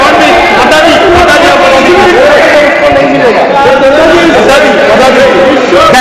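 Loud, overlapping crowd chatter in the Lok Sabha parliament, many voices talking at once in a dense continuous babble, close and unbroken across the whole stretch.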